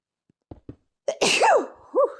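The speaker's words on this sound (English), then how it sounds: "got the sneezes today" One loud, close sneeze follows a few quick sharp inhales, and a second, smaller sneeze comes straight after it.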